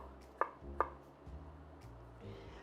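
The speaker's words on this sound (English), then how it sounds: "I would smash it like that and use a knife to go through." Two sharp knife thwacks on a cutting board as garlic cloves are smashed and chopped, close and distinct, followed by quieter low board noise.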